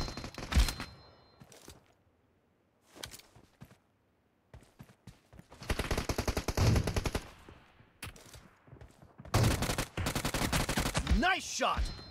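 Automatic gunfire rattles in PUBG Mobile, loud bursts of rapid shots broken by short pauses and scattered single cracks, with game voice callouts between.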